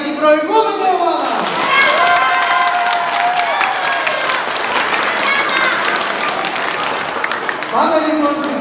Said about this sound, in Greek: ένα δυνατό χειροκρότημα και για την προηγούμενη ομάδα